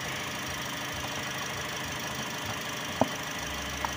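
A car engine idles steadily after a repair for high fuel consumption. The low hum is even and continuous, with a couple of faint clicks and no voices.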